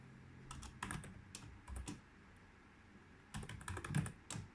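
Keys on a computer keyboard are typed in short, quick bursts of crisp clicks separated by quiet pauses while entering values in a Panda robot arm ROS simulation; close and fairly soft, with no voices.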